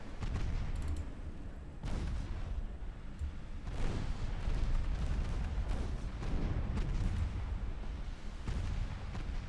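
Battleship guns firing during a naval battle in Ultimate Admiral Dreadnoughts, a steady run of distant booming salvos and rumbling impacts at irregular intervals, layered over continuous low battle noise.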